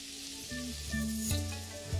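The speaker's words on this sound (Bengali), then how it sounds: "আর তারপর আবারও এটাকে ভাজতে থাকবো যতক্ষণ না রসুনের কাঁচা গন্ধটা চলে যাচ্ছে।" Chopped onion, green chili, garlic and ginger frying in a pan, a faint soft sizzle heard close up with some steady tonal sounds alongside.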